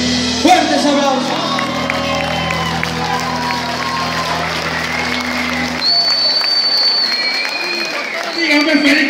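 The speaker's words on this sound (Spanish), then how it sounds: "¡Fuertes aplausos!" A festival crowd at an outdoor charity concert claps and cheers loudly and steadily for about nine seconds, with whoops, shouts and voices mixed in over lingering music tones.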